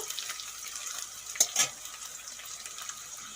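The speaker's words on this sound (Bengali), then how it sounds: "পেঁয়াজের সঙ্গে কাঁচা লঙ্কাও একটুক্ষণ ভেজে নেব" Sliced onions and slit green chillies frying in a pan, a steady soft sizzle with two brief louder crackles or stirring scrapes in the middle, close and alone without talk.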